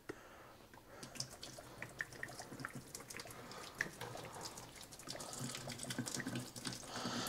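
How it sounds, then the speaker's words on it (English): Water and leftover wood chips poured out of a small 1-liter oak barrel into a sink, a steady, fairly quiet splashing stream with trickles and drips, running continuously with no voices. "we're going to go ahead and pour it out here in the sink back here."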